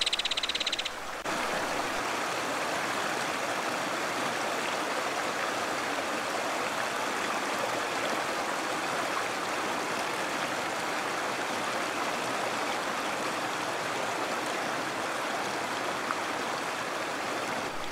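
Creek water at Anderson Lake County Park flows in an even, broad rushing hiss that stays constant and fairly close for the whole stretch, with no voices.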